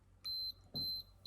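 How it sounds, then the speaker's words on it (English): A camera self-timer counts down in a small pop-up studio with three evenly spaced high electronic beeps, each lasting about a quarter second, clean and close in a quiet room. "beeping noise, the shutter, the self-timer counting down"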